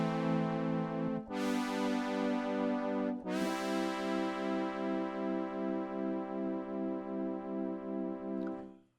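UNO Synth Pro in paraphonic mode with pulse width modulation plays sustained bright, harmonically rich chords that change twice, with a slow, regular wobbling motion running through the held notes before a clean release.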